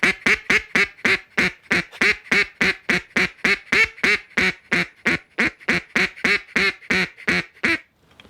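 A duck caller blows a rapid run of about twenty-five quacks on a welcome call, steady and close with a rising-then-falling feel, ending in a brief pause; a human imitating a duck with a call, no talk.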